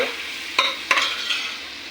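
Chopped tomatoes drop into a hot frying pan for a fish curry, giving a few sharp sizzling bursts and a short stir, close and fairly quiet, with no talking.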